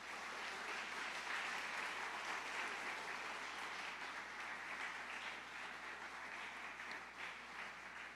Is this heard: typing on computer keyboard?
no